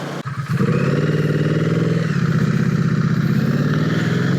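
Triumph Street Cup motorcycle engine while riding, a loud, steady drone with a low pulsing throb that holds constant throughout, with no talking.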